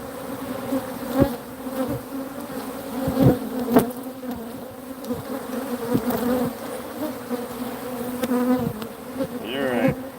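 Honeybees buzz in a dense, continuous drone around opened hive frames of brood, heard up close, with a few individual bees passing near and several sharp clicks and knocks from handling the frames; no one speaks.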